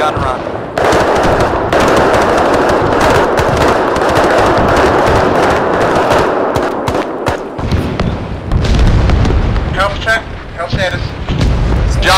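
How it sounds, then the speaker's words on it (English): Aircraft gun run from the Arma III Vietnam War campaign: long, loud, sustained bursts of rapid machine-gun strafing fire with booming impacts, continuing for most of the clip, followed by a few lighter crackling shots near the end. "Don't get caught up in that gun run."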